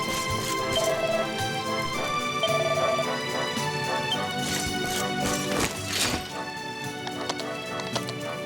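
Horse hooves clip-clopping in the Dragon Quest XI video game, a steady light trot of hoofbeats mixed into continuous game music and ambience, with a brief thud near the end.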